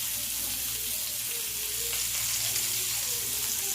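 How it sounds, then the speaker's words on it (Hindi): Chicken malai boti pieces frying in a little oil, a dense, steady, close-up sizzle that runs unbroken, with a few faint stirring touches and no talking. "थोड़ा सा ऑयल डाल के इस तरह से फ्राई किया।"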